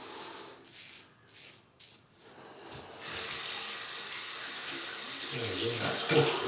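Water from a sink tap rinses a Rockwell Model T adjustable double-edge razor, starting after a few soft knocks and then pouring in a steady, full stream with light clinks of metal near the end.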